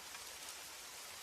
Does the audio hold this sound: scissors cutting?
no